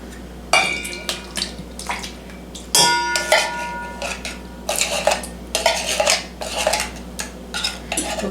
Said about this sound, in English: you're gonna have to whisk your coconut milk around.